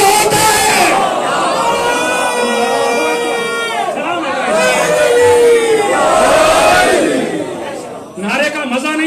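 A crowd at a Muharram majlis gathering in Paris loudly shouts a religious slogan in unison, several swelling collective cries that rise and fall, with speech-like voices blending through the chant.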